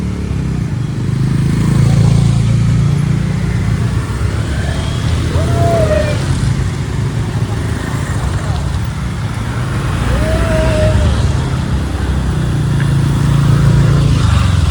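A group of six motorcycles pulls away together at the start of a night ride near Nashik. Their engines make a loud, steady rumble throughout, with two brief tonal chirps over it.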